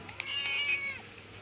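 A cat meows in a single drawn-out, rising and falling cry, close and clear against a quiet background.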